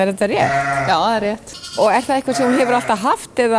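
Sheep on a farm bleat loudly and close, several wavering calls mixed in and around people talking in conversation.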